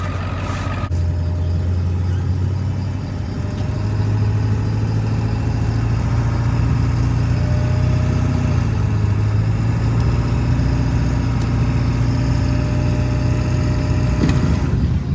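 A Ford 7.3 Powerstroke diesel truck drones steadily as it travels a rough gravel road, a loud continuous low engine rumble heard from inside the cab.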